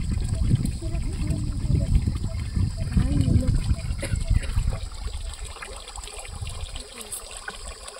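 Spring water trickles and flows at a village water source in Binaliw, a steady close babble running under people talking that fades to a quieter trickle toward the end.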